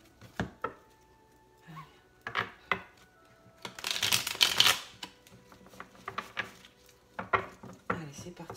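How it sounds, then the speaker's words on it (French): A deck of tarot cards is shuffled by hand close up: scattered soft taps and flicks, then a dense riffling burst in the middle, followed by more intermittent card slaps. "J'ai bien les mélanger les cartes, les amis. Je les brasse un peu encore."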